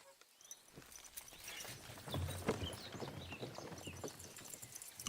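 Horse hooves clip-clopping in a video game after the rider spurs the mount on, a quiet rapid patter of hoofbeats building in and continuing steadily at moderate distance.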